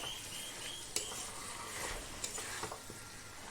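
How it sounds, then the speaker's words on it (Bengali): Young jackfruit sautéed with potatoes in a pan for a jackfruit and prawn dish, giving a faint, steady sizzle with a few soft clicks and scrapes of a spoon stirring, no voices. "আর মিনিট 2 আলু কষানোর পরে দিয়ে দিলাম এঁচড়, আর এঁচড়টা দিয়ে সুন্দরভাবে কষিয়ে নেব।"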